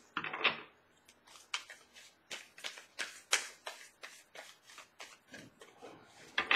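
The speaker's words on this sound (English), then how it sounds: "One more shuffle, and I'll pull from the top." Tarot cards being shuffled in quick riffling bursts, a series of crisp flutters with short pauses between them, close up and fairly quiet.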